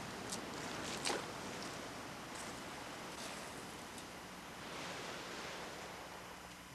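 Gentle waves wash over a pebble beach, a steady soft surf hiss with faint rattling bursts, fairly quiet and continuous with no voices.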